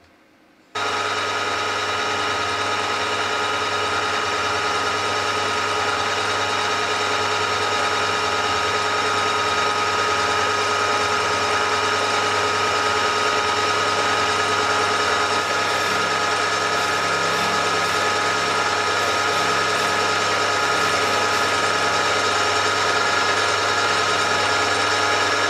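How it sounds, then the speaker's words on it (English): A drill bores through an indexing ring toward the chuck at 1000 RPM, starting abruptly into a steady, loud machine whine and hum that holds unchanged for the full stretch, with no talking. "want to do is drill through here into the chuck"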